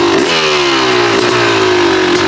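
A Yamaha YZ250 two-stroke dirt bike fitted with an Apex head revs loud and close. It rises in pitch and settles into a steady, buzzing high rev with slight wavering.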